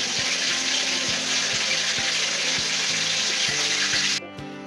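Tikia patties frying in a pan at home, a steady loud sizzle with soft rhythmic bumps beneath it, the hiss dropping away abruptly near the end.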